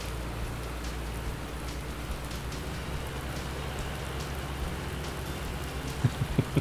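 Steady rain in the video game Landwirtschafts-Simulator 19 pours down continuously with a low rumbling background, and a few soft knocks near the end.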